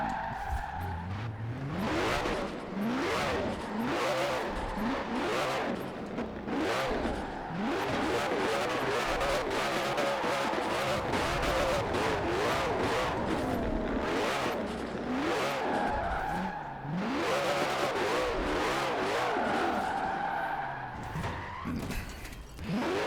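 Koenigsegg Jesko hypercar in Forza Horizon 4, its engine revving and rising through gears with repeated tire squeals and skids, loud and continuous throughout with brief pauses, faint speech underneath.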